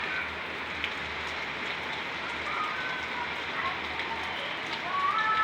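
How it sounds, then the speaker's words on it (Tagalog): Midday rain falls steadily, a continuous even hiss of drops on surfaces that holds at the same level throughout, with a faint bird call near the end. "O ayan, umulan na naman."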